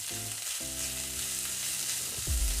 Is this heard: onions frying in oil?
yes